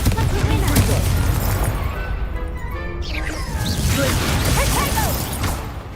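Spell combat in the video game Hogwarts Legacy, with a series of booming blasts, crashes and whooshing magical effects overlapping throughout, loud and close.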